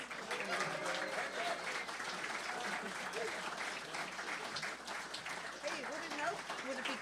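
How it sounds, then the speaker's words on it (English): Audience applause at a St Louis Tionól, a traditional Irish music gathering, rises as a fairly faint, steady patter with voices talking over it. "perhaps you can warm her up by a great round of applause"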